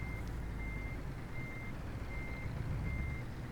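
Reversing beeps from a truck in Euro Truck Simulator 2 repeat at a steady, evenly spaced rhythm over a low engine rumble.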